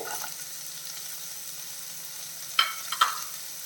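Onion and carrot sautéing in a pan for an oats dish, a soft steady sizzle with two sharp spoon scrapes near the end, quiet and close with no talk.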